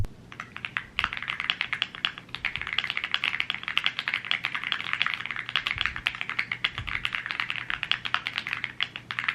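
Steady, fast typing on a computer keyboard during a writing sprint, dense clicking keystrokes running continuously and fairly close, with no talking.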